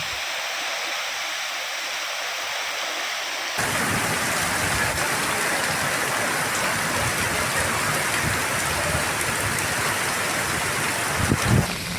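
Heavy rain falls in Telangana, a loud dense hiss that starts softer, then swells abruptly into a steady downpour, with a faint knock near the end.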